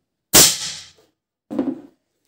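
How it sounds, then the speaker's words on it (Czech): Air gun, just disconnected from its air supply by quick coupling, fires its last shot on the pressure left in the reservoir: a single sharp, loud burst, then a short, fainter puff of escaping air a second later. "ve vzdušníku zůstává ještě tlak na jeden výstřel"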